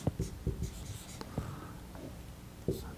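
A pen or marker scratches out a math limit expression in short taps and strokes, close and soft, with a faint breath or murmur underneath.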